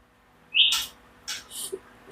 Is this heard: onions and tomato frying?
no